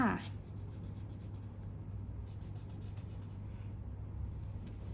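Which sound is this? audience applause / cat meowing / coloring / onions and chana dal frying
coloring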